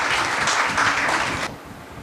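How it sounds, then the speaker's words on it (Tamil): Audience applause welcomes lawyers at an International Women's Day celebration held by a bar association, a dense burst of clapping that cuts off abruptly partway through, leaving quiet room tone. "எங்கள் குல வாரிசாக அமர்ந்திருக்கும் அனைத்து வழக்கறிஞர்களையும் கரகோஷம் கட்டி வரவேற்கிறேன்"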